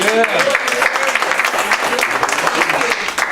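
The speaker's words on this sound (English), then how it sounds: "we're going to have to clap again because she is a veteran of the Navy" A studio audience claps in a burst of steady applause for a Navy veteran guest on a talk show, with a voice briefly audible at the start.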